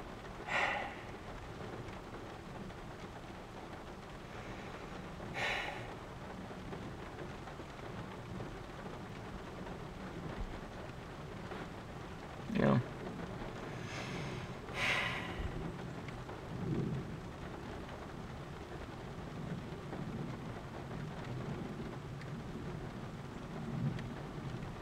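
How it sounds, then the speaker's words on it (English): Steady rain falls outdoors around a tent, a constant hiss with scattered sharper cracks and low rumbles of thunder rising above it now and then, and no voices. "now it's been raining on and off for an hour or two"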